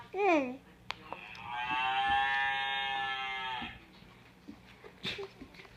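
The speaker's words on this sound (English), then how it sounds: "Here's the cow." A cow lows in one long, sustained moo of a few seconds, fairly clear and close, after a brief higher call at the start, with a few small clicks and knocks around it.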